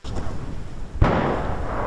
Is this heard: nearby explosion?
yes